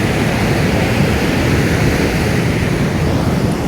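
At Selili beach in Yogyakarta, breaking waves produce a steady, loud roar of surf, dense and unbroken throughout, heard alone without any talking.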